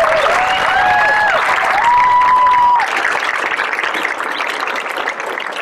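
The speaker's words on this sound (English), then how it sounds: "Let's give her another round of applause." Crowd applause breaks out at an outdoor protest rally in San Antonio against family separation, steady clapping with a few cheers and whistles rising above it, continuing throughout at a fairly loud level.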